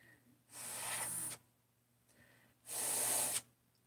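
Two separate bursts of breath blown through a short length of lawn-equipment fuel line, each a soft airy hiss lasting under a second against a faint background hum.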